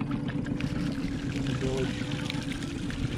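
Water leaks and trickles into a small fishing boat with a steady, continuous wash, while voices talk over it.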